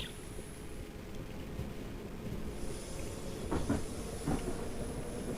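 Class 455 electric train in Train Simulator on the Portsmouth Direct Line, pulling away with a steady rumbling motor hum and hiss that builds slightly, a few clicks and clunks toward the end, and no talking.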